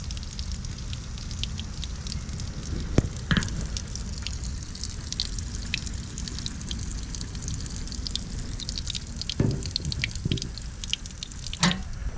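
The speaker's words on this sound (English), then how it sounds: "You wanna see some more water come out though?" Water dripping from an emptied container, a few distinct drops landing at scattered moments over a steady low background wash, close and fairly quiet with no talking.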